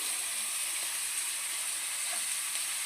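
Curry leaves and sliced onions sizzling in hot oil for a village-style chicken curry, a steady, even hiss of frying that runs without break at moderate loudness.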